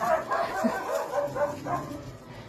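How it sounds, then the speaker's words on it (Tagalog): Several dogs bark and yip repeatedly outside in the distance, their calls muffled, with a soft voice murmuring underneath. "Minamarites na yung mga nagtatahulang aso sa labas."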